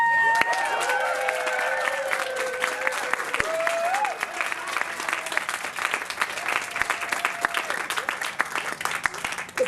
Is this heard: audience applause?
yes